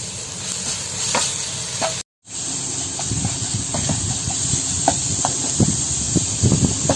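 Onions sautéing with a pinch of salt in a pan for Tamil-style bread chops, a steady close sizzle and hiss with scattered stirring clicks and scrapes, briefly cut to silence partway through.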